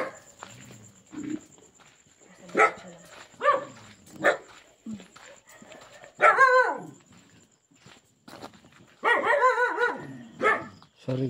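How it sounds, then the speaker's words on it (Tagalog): Several dogs bark intermittently outdoors around an old abandoned house, sharp single barks and a longer howling yelp at varying distances, with faint background noise between them. "maraming aso dito."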